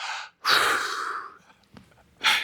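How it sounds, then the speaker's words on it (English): A man makes exaggerated breathing sounds: a sharp exhale, a long forceful breath, then quieter sniffs and a final hard exhale, close and loud with pauses between. "I'll make kind of weird, crazy breathing sounds."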